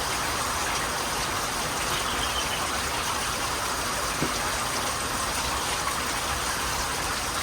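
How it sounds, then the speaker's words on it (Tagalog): Steady rain pours over a small backyard vegetable garden, a constant dense hiss of falling drops that fills the scene evenly from start to end, with no talking. "kahit na umuulan"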